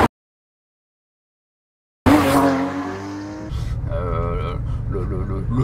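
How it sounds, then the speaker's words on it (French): A Porsche 911 991 GT3 Touring, whose engine revs up to 9000 rpm, bursts in loudly after two seconds of silence with a sharp rising rev, then settles into a sustained, throaty engine drone. "c'est assez stratosphérique ce moteur qui touche jusqu'à 9000 tours minute."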